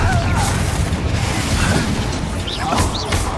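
The Confringo spell in the video game Hogwarts Legacy: a dense, loud, booming blast with crashing bursts that fills the whole moment, while spoken game dialogue sounds on top of it.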